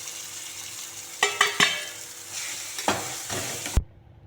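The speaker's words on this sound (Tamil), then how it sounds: "குடமிளகாய் வதங்கிச்சு, எல்லா மசாலாவும் போட்டுக்கலாம்." Bell pepper and masala sauté in a hot pan while being stirred, a faint sizzle broken by several sharp scrapes and clatters of the spoon against the pan, ending abruptly.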